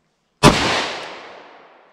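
A single sharp, loud gunshot from a 10mm pistol firing a lightweight Inceptor ARX plastic bullet, with a sudden crack followed by a smooth echoing decay that fades over about a second and a half.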